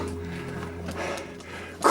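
A single dog barks briefly near the end, loud and close, after a stretch of low ambient sound with a steady hum.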